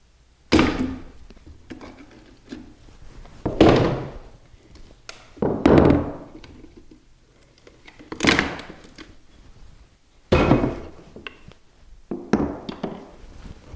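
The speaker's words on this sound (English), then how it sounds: "I'm just going to use the chisel, like I said, and just try to get these pieces out" Chisel knocking loose pieces of damaged hardwood flooring during a repair, a series of sharp, close thuds and taps spaced irregularly, with scraping and small clatters between blows.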